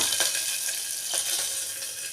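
Mustard seeds, urad dal, cumin, a dried red chilli and garlic fry in hot oil, giving a steady, close high-pitched sizzle with a few faint crackles.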